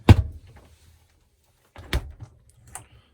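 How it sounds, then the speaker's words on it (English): A small 3-way fridge door in a 2000 Pleasure Way Excel-MP Class B motorhome shuts with a sharp close-up thump, then a second click of the latch about two seconds later, followed by faint handling. "Latch there to keep that door closed when you're traveling."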